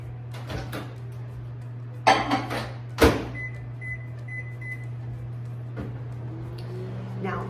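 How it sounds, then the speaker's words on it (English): A steady low mains hum of a running microwave heating cauliflower fills the background, broken by a few clunks of a door or cupboard and a series of short beeps. "I'm just going to cover it and put it into the microwave for about a minute"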